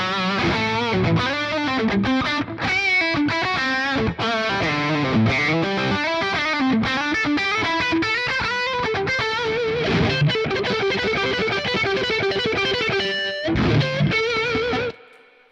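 Dense, heavily distorted metal guitar riffing through an AMP1 Mercury amplifier with a boost pedal engaged, played loud and continuously with chugging palm-muted passages and sustained chords until a sudden stop.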